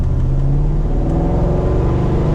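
A Land Rover Defender's 5.3-litre L83 V8 petrol engine accelerating, on mud tyres, with a deep, steady rumble that rises gradually in pitch, loud and close throughout.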